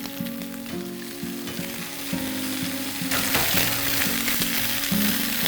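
Eggs fry in hot oil with a loud, constant sizzle up close, over a low mechanical hum, and the crackle grows more intense in the second half.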